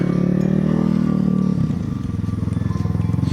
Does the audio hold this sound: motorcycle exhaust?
yes